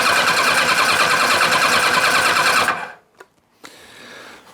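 A 1990 Kawasaki ZZR1100 motorcycle being cranked on the starter button, with a loud, fast whirring churn for nearly three seconds that stops abruptly without firing, followed by a brief click and quiet handling noise.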